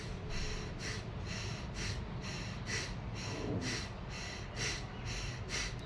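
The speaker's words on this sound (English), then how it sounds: "while we inhale, our collarbone comes up, and we exhale, our collarbone comes down" Shallow breathing shown slowly and steadily, with the collarbones lifting on each inhale and dropping on each exhale. About eight soft, hissy breaths come close to the mic in an even rhythm, with no talking.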